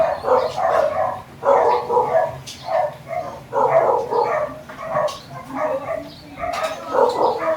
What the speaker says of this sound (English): as the free roaming dogs pass by their houses, they all start barking wildly